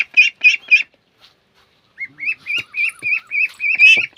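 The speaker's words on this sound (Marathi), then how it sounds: "तिथून पक्षी आवाज देत होते" Poultry kept for backyard farming, chickens alongside newly brought ducks, calling nearby: a short burst of three loud squawks, a pause, then a longer run of repeated honking, quacking calls with faint background noise.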